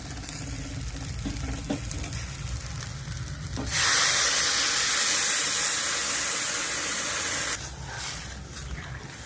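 Hot water poured into a pan of fried green chillies gives a sudden loud hiss and sizzle of steam that holds steady for about four seconds, then drops back to quieter frying.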